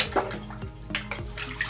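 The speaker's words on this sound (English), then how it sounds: "Okay, and we're gonna pour all this in. And I'm gonna like give it a swish." Soapy cold water poured into a bathtub and swished by hand, giving a few brief sloshing splashes that come close and fairly quiet.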